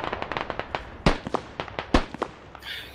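Mortar rounds fire in the video game Squad on the Belaya map, with a string of sharp, booming reports: two loud close shots stand out among several fainter, more distant thumps, and no talk is heard.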